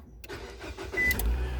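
A Nissan car with a faulty electronic steering column lock starts after its key fob is bypassed by holding down the lock's micro switches. A brief crank catches into a low, steady engine rumble close by.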